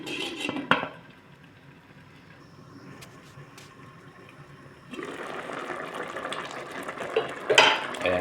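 A lid clanks once onto a pot of taro (gabi) cooking in coconut milk with dried fish, followed by a quiet simmering hiss that grows fuller and louder as the pot keeps bubbling.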